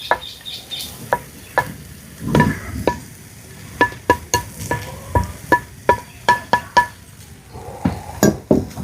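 Onion sautéed with a grated coconut mix in oil, stirred with a spatula that scrapes and knocks the pan in a quick, uneven rhythm of sharp clacks over a soft sizzle, close up with no talk.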